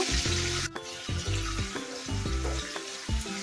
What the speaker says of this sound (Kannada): ಇದು ಫ್ರೈ ಮಾಡ್ಕೊಳ್ಳೋಣ.